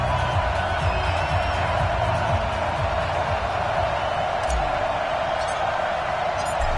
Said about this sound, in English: This crowd is ready as their guys get set to match up between the Philadelphia Eagles and the Houston Oilers.